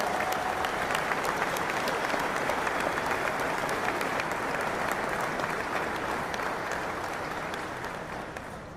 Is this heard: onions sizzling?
no